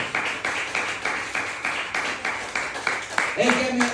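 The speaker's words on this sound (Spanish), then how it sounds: "Denle un aplauso a Cristo Jesús porque Él vive por siempre." A church congregation clapping in praise of Christ Jesus, a steady rhythmic patter of claps that holds throughout, with a voice breaking in near the end.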